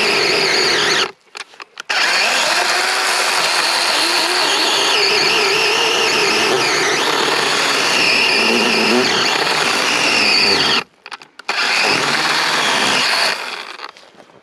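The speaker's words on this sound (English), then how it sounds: "he's got a chainsaw. Captain Gaz is going to give it a crack." A DeWalt compact cordless chainsaw motor whines loudly and close, running for long stretches with two brief pauses.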